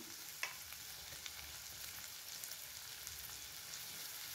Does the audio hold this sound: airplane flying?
no